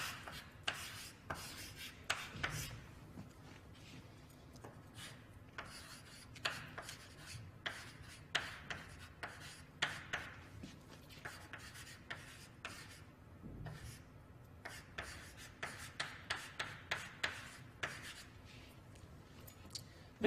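A pen scratching across paper in short, irregular strokes and taps, faint and close, continuing steadily with small pauses and no talk.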